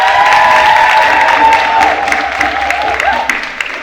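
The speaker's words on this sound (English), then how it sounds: "so can we give a round of applause to her?" A live podcast audience claps and cheers loudly and continuously, a dense wall of applause that slowly thins out toward the end.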